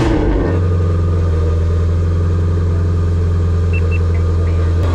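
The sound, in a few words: Ford Mustang GT350 cold start with catless midpipes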